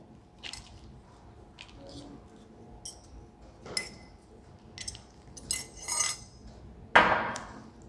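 Guduchi (Giloy) stems are ground into a paste in a quiet room, with scattered sharp knocks, clinks and scraping bursts that come irregularly and include one louder strike near the end.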